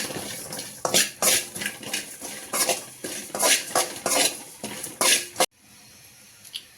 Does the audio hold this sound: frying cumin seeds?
yes